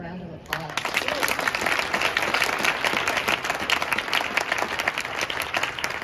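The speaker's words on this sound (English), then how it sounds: "Let's give them another round of applause." Sustained applause from an audience at an OCD awareness event, dense steady clapping filling the room for several seconds after a short pause, with voices mixed in.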